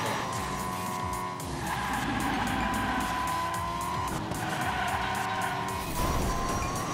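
Toy race cars in the Hot Wheels Unleashed video game roar along and corner with squealing, skidding tires, a loud continuous engine whine rising and falling close up, without speech.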